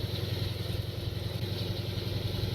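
A tank engine idles in Tank Mechanic Simulator, a steady, loud, low rumbling drone with a rhythmic mechanical clatter that continues unbroken.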